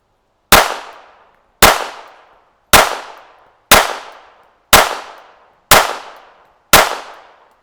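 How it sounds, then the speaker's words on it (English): Seven loud pistol shots from a World War One French contract Ruby pistol, fired at an even pace about one per second, each a sharp crack with a long fading echo. "What am I doing shooting this with 2 hands?"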